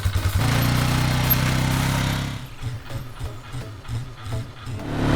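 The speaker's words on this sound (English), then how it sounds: "This four-wheeler is clearly a better tool for the job, and it's going to handle this drag no problem." Four-wheeler ATV pulling a 10-foot drag across a lawn to spread top dressing, a loud close engine hum that drops to an uneven, throbbing idle-like rumble partway through.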